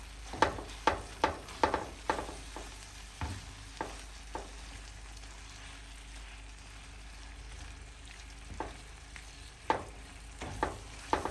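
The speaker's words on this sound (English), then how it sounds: "the vegetables are continuing to cook, and I'm letting the pork just heat up" Vegetables and precooked canned pork for spicy fajitas sizzle in a pan on a cabin stove, a soft, steady frying hiss broken by sharp clicks and knocks in bursts at the start and end, close and quiet, with no talking.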